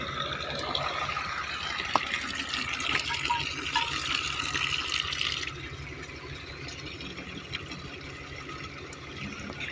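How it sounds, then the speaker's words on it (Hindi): Spring water from a mountain source near Janjehli pours steadily into bottles, a continuous close rushing and gurgling wash that eases slightly halfway through, with no voices. "तो मिनरल वाटर हम भी भर लेते हैं।"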